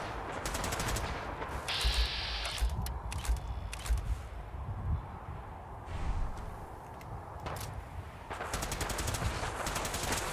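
Rapid bursts of automatic gunfire from Fallout 4 rattle through the clip in several volleys, loud and dense, with shorter single shots and clanks scattered between them.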